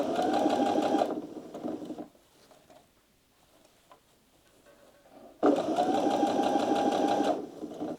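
A sewing machine stitches a seam on a garment with lining, two loud close bursts of rapid whirring separated by a few seconds of near silence while the fabric is repositioned.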